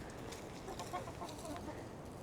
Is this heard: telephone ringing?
no